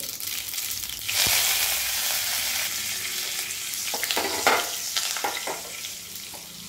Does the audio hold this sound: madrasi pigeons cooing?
no